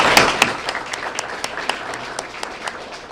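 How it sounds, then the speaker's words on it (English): A school crowd at a student of the month morning event breaks into brief applause, a steady wash of clapping with distinct close hand claps punctuating it every fraction of a second. "Let's give you a great round of applause this morning."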